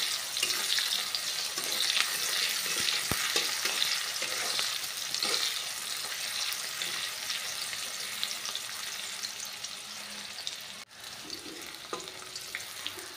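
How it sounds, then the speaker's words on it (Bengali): Chopped onions fry in a pan for a Bengali fish curry, a steady broadband sizzle with occasional scraping stirs, fairly loud and continuous throughout with no talking. "এখানে আমি পেঁয়াজটা হালকা লাল করে ভেজে নেব।"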